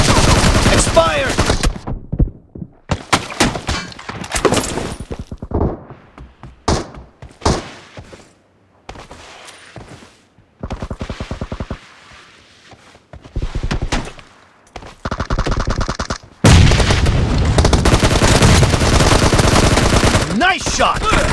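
Rapid bursts of video game gunfire from a team shooter match, loud and close, with sharp single shots, chattering automatic volleys and heavy thunks separated by brief quiet gaps, building to a dense sustained barrage at the end.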